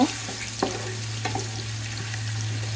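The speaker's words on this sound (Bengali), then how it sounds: "নেড়ে পেঁয়াজটা একটু ভেজে নিব" Chopped onions and bay leaf frying in hot soybean oil for biryani, a steady low sizzle with a few sharp scraping clicks of a spoon stirring, close and alone.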